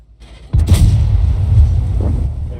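A KV-1S heavy tank's cannon fires in the World of Tanks video game: one loud, sudden boom with a long rumbling tail that fills the rest of the moment, with no talk over it.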